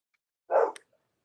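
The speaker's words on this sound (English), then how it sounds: "somebody's got a dog" A single short dog bark rings out nearby, one brief burst with a quick tail, followed by silence and no talking.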